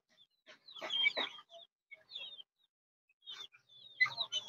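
A rooster clucking in short clustered bursts, near and fairly quiet, with brief pauses between calls and no talk.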